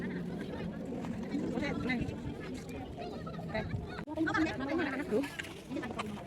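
Ducks quack and honk in bursts near and far, mixed with people chatting nearby over a busy outdoor background, on Tai Mo Shan mountain in Hong Kong.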